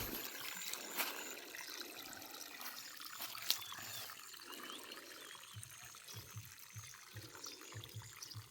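Water sprays steadily while a home garden is being watered, a quiet continuous hiss and patter of liquid on plants and ground, faint and fairly close, with no talk over it.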